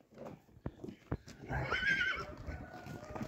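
A mare with her male piebald foal gives one loud, shaky whinny midway, rising and falling over about a second, with a few hoof clops and thumps close by before it.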